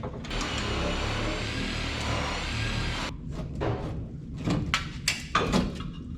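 Nut being tightened by hand while a part is mounted on a budget car build, a ratcheting mechanical sequence with a steady whirring run for three seconds, then a few separate close clicks and clanks.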